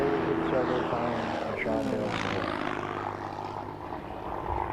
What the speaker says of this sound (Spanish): cuando pasó Jack Bulliams en el Focke-Wulf a unos 30 a 35 pies a ras de suelo